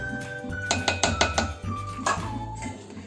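Spoon clinking rhythmically against a bowl while butter and sugar are stirred for an eggless homemade vanilla cake, a run of quick metallic taps, a pause, then more scraping clinks up close.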